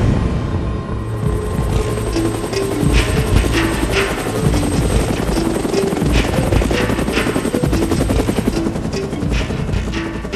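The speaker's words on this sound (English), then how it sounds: "The Chilean Air Rescue Service dispatches helicopters to rescue the remaining survivors." Rescue helicopters of the Chilean Air Rescue Service thump loudly and steadily throughout, a continuous close rotor chop with engine whine over the Andes crash site, with no one talking.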